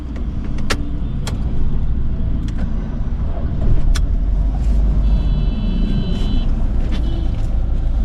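Car engine running with a steady low rumble, loud and close from inside the vehicle, with a few faint clicks and a brief electric whine over the drone.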